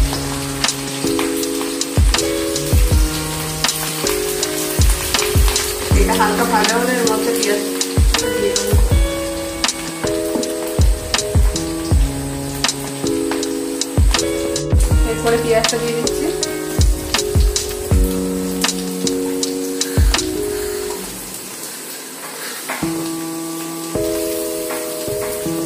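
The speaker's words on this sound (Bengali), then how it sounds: "এর মধ্যে আদা লঙ্কাটা দিয়ে দিলাম।" Ginger and green chilli frying in hot oil in a kadai for chilli chicken gravy, giving a continuous spattering sizzle with stirring scrapes and utensil knocks, loud and close, fading toward the end.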